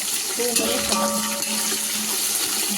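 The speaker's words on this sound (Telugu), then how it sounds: "కొంచెం కొత్తిమీర వేసేసి బాగా ఫ్రై చేసుకుందాం" Coriander, mint, green chillies and onion frying in oil for mutton keema pulao, a continuous close sizzle and hiss with soft stirring movement throughout the short stretch.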